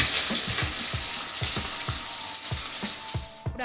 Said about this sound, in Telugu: చూడండి, ఆయిల్ బాగా హీట్ ఎక్కింది. ఆనియన్స్ వేసేసుకుందామండి.